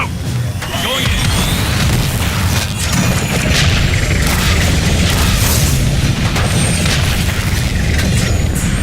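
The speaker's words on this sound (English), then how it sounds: "Grenade, get down!" A grenade explodes in the video game The Bureau: XCOM Declassified, a loud, deep boom that rolls into dense rumbling debris and battle noise, with voices shouting beneath.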